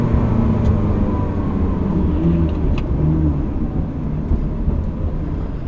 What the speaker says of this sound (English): allow us to dip into that racing exhaust